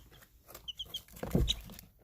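Backyard chicks jostle over a treat of yogurt, giving soft, scattered clucks and a few brief chirps that rise to a louder scuffle midway, close by and without talk.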